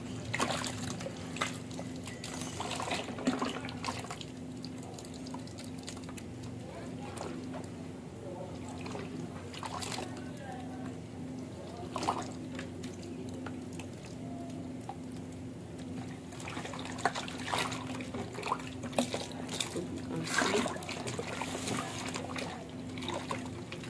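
Thick liquid paint sloshes and gurgles as a hand stirs it in a vat during emulsion paint production, soft wet swirls and trickles over a steady low machinery hum.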